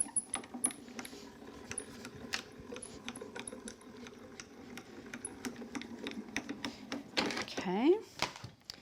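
A Grand Calibur die-cutting machine is cranked by hand, producing a run of rapid, close, clicking ratchet-like ticks at a steady pace, with a person talking over it.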